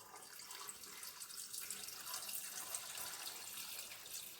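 Tap water runs steadily into a Thermomix bowl as about 1.2 litres of osmosis water is added for slow-cooking pinto beans, a constant bright splashing hiss close by with no talk over it.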